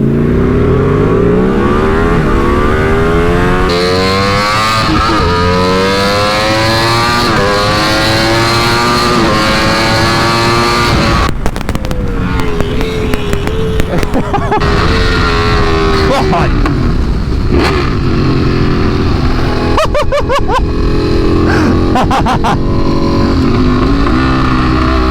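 A Ducati Streetfighter motorcycle engine revs hard on a highway, its loud note sweeping upward through the gears with brief shift breaks and surging again, with heavy wind rush and a rider talking over it.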